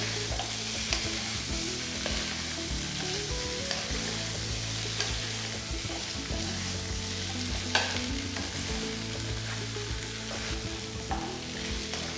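Chicken pieces with crushed pepper fry in a pan for Kerala-style pattichu varathathu, a loud continuous sizzle broken by the scraping of steady stirring strokes.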